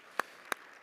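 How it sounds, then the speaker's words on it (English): Three separate sharp hand claps at a forum panel session, evenly spaced about a third of a second apart, crisp and close against a quiet room. "Can we have a huge round of applause to our panelists for sharing their perspectives?"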